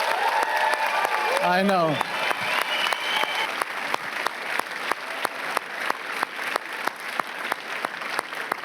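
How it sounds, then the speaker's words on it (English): Applause from a large crowd at a red carpet film premiere, with a brief whistle early on and dense clapping continuing steadily throughout, while a voice speaks briefly over it. "Please give a big applause to Cherry Bruckheimer"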